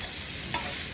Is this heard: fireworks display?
no